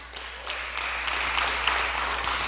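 Church congregation clapping together, a steady wash of applause at moderate distance, filling the whole moment without speech.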